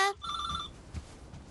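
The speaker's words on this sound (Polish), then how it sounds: "tylko odbiorę telefon" A telephone rings in a short electronic burst of two steady tones in a cartoon house, fairly quiet, followed by soft thumps and room noise.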